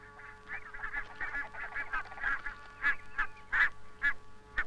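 A flock of barnacle geese (Branta leucopsis), non-breeding birds in a river valley, gives repeated sharp yapping honks, several birds overlapping in a steady, fairly close chorus with no talking.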